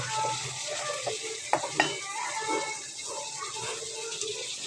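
Chopped onions go into a hot pan for a taki fish bharta and fry with a quiet sizzle, stirring scrapes and a couple of sharp utensil knocks, with faint talk in the background.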